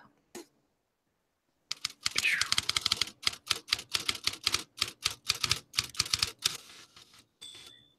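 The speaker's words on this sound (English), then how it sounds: "Thanks for typing up this article as we speak." Typewriter keys clatter in a quick, steady run of sharp strikes following a short pause, with a small carriage sound near the end and no talk over it.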